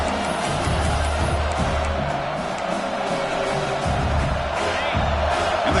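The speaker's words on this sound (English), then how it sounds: "And the crowd coming to life here" Crowd roaring in an American football video game, a steady wash of cheering and whooping at moderate volume that swells slightly in places and runs throughout.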